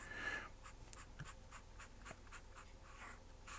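Pen drawing on paper, a quick run of short scratchy strokes spaced irregularly, close and fairly quiet, with no talking.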